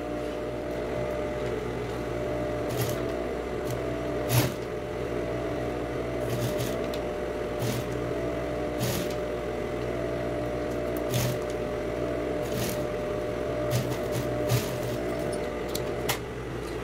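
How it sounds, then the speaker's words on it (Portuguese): A sewing machine backstitching a seam on a child's trapeze dress hums in a steady mechanical drone, broken by several short sharp clicks as it runs continuously for a long stretch. "Vou fazer essa costura de pressponto também."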